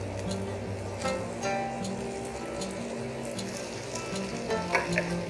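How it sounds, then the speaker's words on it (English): Cooked rice is stirred into a tomato and methi mixture frying in a pot, a continuous sizzle broken by soft scraping stirs, with a low tonal hum running underneath. "Now let's add in the cooked rice."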